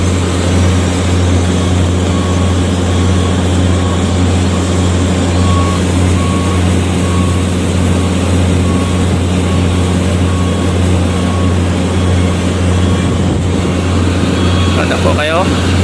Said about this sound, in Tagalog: Kusog yung makina oh.